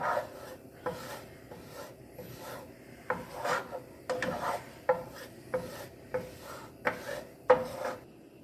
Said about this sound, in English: you want to mix that around so it's in with the butter and the garlic